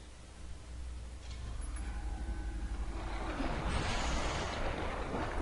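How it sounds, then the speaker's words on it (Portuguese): Released water in the Lego Batman 3: Beyond Gotham video game gushes and flows in a broad rushing wash that swells louder over a low rumble, with no talking over it. "Eba, a água saiu."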